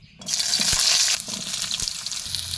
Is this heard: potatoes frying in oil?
yes